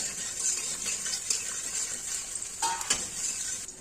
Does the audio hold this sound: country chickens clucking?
no